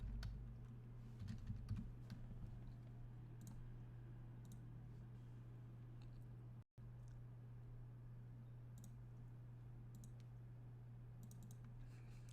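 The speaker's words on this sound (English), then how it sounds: "let's just type in lantern here" Someone types on a computer keyboard, producing scattered soft key clicks in irregular bursts over a steady low electrical hum, with no voices.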